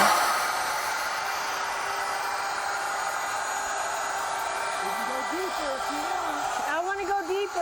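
A router cuts cured resin on a spalted elm slab tabletop, giving a steady, loud high whine that runs unbroken throughout, with a voice speaking briefly over it near the end.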